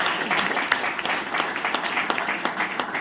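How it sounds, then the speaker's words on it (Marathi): An indoor audience claps and applauds at a felicitation event, a dense, lively patter of many hands lasting a few seconds, fairly close and loud. "गौरी क्षीरसागर हिच्यासाठी एकदा जोरात टाळ्या"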